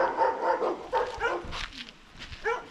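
A dog barks and yips in short, close bursts with a few whimpering notes, heard in a busy car park at a troglodyte village in France's Loire region.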